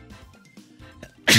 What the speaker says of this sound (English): a sneeze is coming